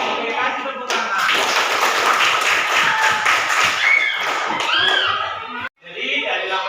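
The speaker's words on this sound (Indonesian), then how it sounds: "Oke, kasih tepuk tangan." Students in a class clap together, a busy mix of many hands with occasional taps and voices mixed in, breaking off briefly near the end before resuming.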